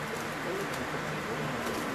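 Pigeons coo softly amid a dense, noisy background at a pigeon loft, with faint voices in the mix.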